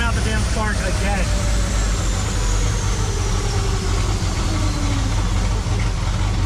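A car engine running hard on a dyno while it blows out the spark: a loud, steady roar that stays constant throughout, with no clear misfire pops standing out.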